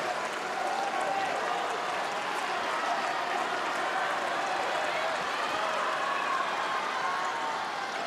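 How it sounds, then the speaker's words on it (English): Tennis crowd at the Australian Open 2012 during Djokovic versus Nadal, a continuous dense roar of cheering and applause from a couple of thousand spectators, loud and unbroken throughout. "There's a couple of thousand making some noise."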